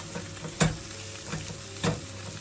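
Plantain frittata with red pepper cooking in a frying pan, a soft continuous sizzle broken by a few brief scraping stirs or turns of the pan, close and moderately quiet, with no speech.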